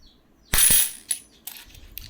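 A Polish collector's coin drops with a bright metallic ring and clinks, followed by a few softer taps and jingles as it settles, close and loud with no speech.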